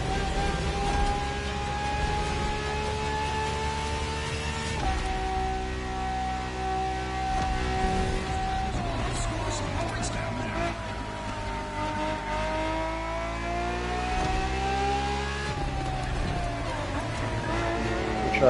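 Ferrari FXX K supercar in The Crew Motofest, a sustained high engine drone climbing and dropping through gear changes, loud and continuous, with a voice talking over it.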